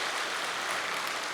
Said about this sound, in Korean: 우리 축복 박수 한번 할까요?